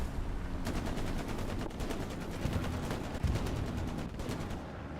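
Rapid gunfire in the WWII shooter Hell Let Loose during a 49v49 Omaha Beach battle, with dense overlapping bursts and individual shots rattling steadily throughout, loud and close over a constant battlefield din.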